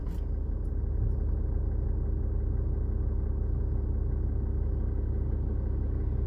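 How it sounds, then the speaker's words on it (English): A massive lorry rumbles close by, a loud, steady low-pitched engine drone that holds evenly throughout without fading. "there's a massive lorry here just looking"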